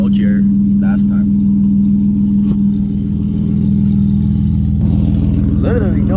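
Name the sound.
BMW E36 engine running with new loud exhaust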